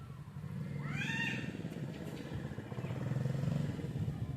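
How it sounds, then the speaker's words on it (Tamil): A motorbike engine hums steadily, growing slightly louder toward the end, while a cat meows briefly over it. "ஏதோ பைக்கு வருது"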